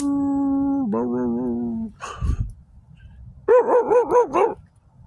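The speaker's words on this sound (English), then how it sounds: "Get out of here, dog." A dog at a night-time stealth campsite, heard as a sustained howl-like tone followed by a wavering whine, a rough bark, and then a run of yipping, whimpering cries, close and fairly loud.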